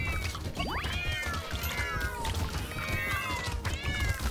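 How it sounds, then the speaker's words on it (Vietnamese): Cats meow repeatedly inside the video game Brotato, several bright, rising mews layered over a dense, busy wash of game sound effects. "Nè, cái tiếng mèo kêu nhiều quá."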